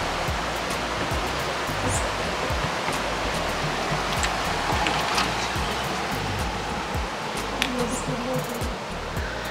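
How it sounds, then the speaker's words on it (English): Small creek running through a front yard at a cloud-forest cabin in Mindo, Ecuador, a steady broadband rush of flowing water filling the scene, with faint chirps above it and no talking. "you can see the little creek here running through our front yard, which is going to be very relaxing"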